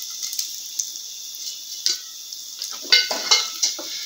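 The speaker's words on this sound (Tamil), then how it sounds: "இப்போ தாளிச்சிரலாம் எண்ணெய் சூடாயிடுச்சு இது அப்படியே சேர்த்துக்கோங்க எல்லாத்தையும்" Mustard seeds, urad dal, curry leaves and asafoetida tempering in hot oil for a garlic chutney, a faint hiss with scattered pops and a few scraping stirs against the pan, close by.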